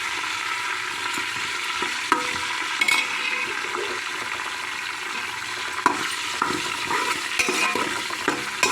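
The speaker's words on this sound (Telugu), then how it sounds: "ఇలా వేగిపోవాలి బాగా." About ten green chillies frying in a pan for khichdi, giving a steady, loud sizzle throughout, with small scraping clicks as they are stirred.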